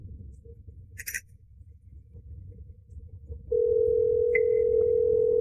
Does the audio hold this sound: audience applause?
no